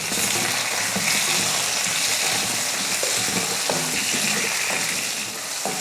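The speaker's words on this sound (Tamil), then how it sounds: "2 தக்காளி நான் சேர்த்துக்கிறேன். மீடியம் சைஸில் 2 தக்காளி. இதையும் வதக்கிக்கலாம்" Medium-sized tomatoes sautéing with onions in a pan for a Tamil anchovy fish curry, giving a steady, dense sizzle that fills the clip, with a few faint scrapes of stirring.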